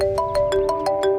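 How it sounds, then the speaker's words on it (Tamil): Phone ringtone playing alone, a bright repeating melodic tone with a steady pulsing rhythm of short notes, close and clear. "ஒரு நிமிஷம், எங்க அப்பா ஃபோன் பண்றாரு."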